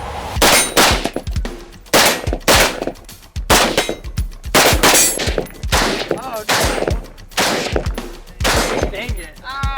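Rapid gunfire on a low-light shooting course, each shot followed by a ringing clang as bullets strike steel targets, sparking on impact; loud, close, irregular volleys of shots and metallic pings with no talk.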